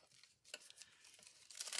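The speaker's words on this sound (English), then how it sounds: "cut this hinge so that it will fit this bag" Paper crinkles and tears in short bursts as a hinge strip is cut to fit a paper bag for a handmade journal, close and quiet, with a few soft snips and rustles.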